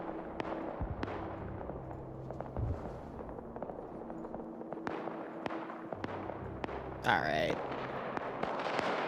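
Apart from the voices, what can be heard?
light machine gun firing in a video game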